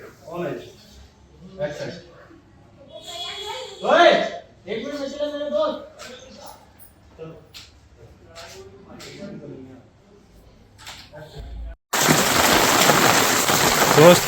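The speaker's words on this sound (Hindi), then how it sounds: "बारिश का माहौल है" Steady heavy rain starts abruptly as a loud broadband hiss near the end, after a stretch of people talking loudly and excitedly indoors.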